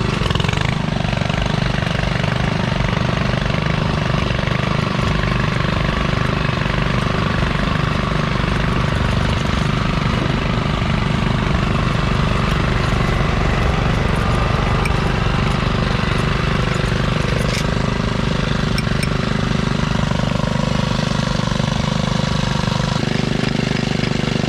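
A ride-on garden tractor pulling a plow runs its engine loud and close, a continuous dense rumble that holds steady throughout with no break.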